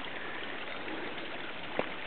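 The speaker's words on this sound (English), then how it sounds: "it's basically got a lot of water coming in" Water flows into the kidney pools of an outdoor artwork, a steady, soft rushing stream with one faint splash near the end.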